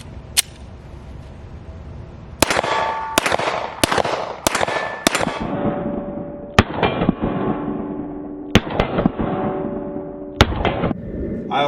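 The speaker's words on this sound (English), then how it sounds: "it is the most accurate semi-automatic gun I've ever shot" Rapid semi-automatic shots from an HK pistol, a string of loud, sharp cracks fired in irregular bursts, each ringing out and decaying into the surroundings, with no talking.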